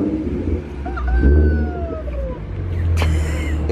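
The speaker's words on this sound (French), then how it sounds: "Les gars, écoutez le bruit de la bagnole." A car makes a loud, sustained low droning noise with strong rumble, overlaid by rising whistling and squealing tones, on a street in Los Angeles, continuing throughout without talk.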